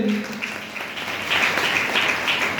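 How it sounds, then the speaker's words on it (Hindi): A seated audience at a motivational health-business meeting breaks into clapping, a short, moderately loud burst of many hands that builds slightly and continues to the end after a faint voice at the start. "रामसी सर के लिए भी जबरदस्त ताली होना चाहिए।"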